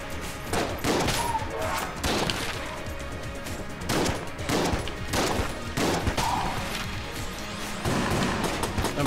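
Rapid bursts of gunfire from a weapon in the twin-stick shooter game Enter the Gungeon, with repeated loud volleys and thuds recurring every second or so over a busy game soundtrack.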